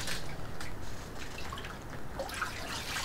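Water drips and trickles from animal hides being lifted out of a bath, a faint, soft patter of liquid falling back into the tub against low steady background noise.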